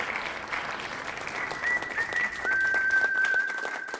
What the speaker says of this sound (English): Can we get a round of applause for Domingo Germán?